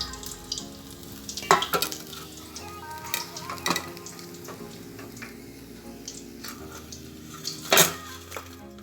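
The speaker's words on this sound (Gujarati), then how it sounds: "ચાલો હવે આપણે તળી લઈએ. ધીમા તાપે તળવાના." Pizza samosas deep-frying in oil over a low flame, a steady soft sizzle running throughout with a few sharper clinks of utensils against the pan, close and moderately quiet, no voices.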